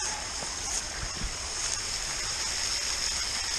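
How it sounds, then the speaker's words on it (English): Steady broadband rush of Brushy Creek flowing below a hiking trail, a continuous watery hiss heard from some distance with faint low thumps, no voices. "down there is Brushy Creek, and it's got some flow to it"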